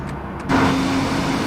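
Boeing 787-9 jet engines in FSX give a steady, loud broadband roar. It jumps up in level after a brief quieter moment and then holds a constant whine-like drone, with no speech.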